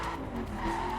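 A car spinning out in The Crew racing game on PS4, a continuous loud tire squeal and skid with engine hum beneath, lasting about a second.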